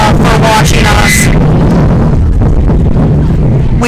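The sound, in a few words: gust of wind hitting the microphone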